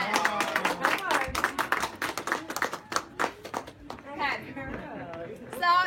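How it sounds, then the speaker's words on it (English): A live audience claps in a brief round of applause mixed with cheering voices and chatter, the sound fading into talk and laughter near the end. "Give her a round of applause."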